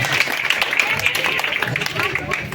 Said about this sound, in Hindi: तालियों से स्वागत करें। तालियों का गुंजाइश होना चाहिए।